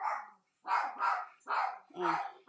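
A puppy barks in four or five bursts, close and fairly loud, with a short pause after the first bark, in an indoor crafting space.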